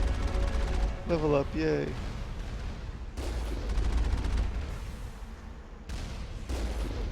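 Alliance heavy turrets firing in Mass Effect, with bursts of sharp gunfire recurring through the stretch under game sounds, while a voice speaks briefly near the start.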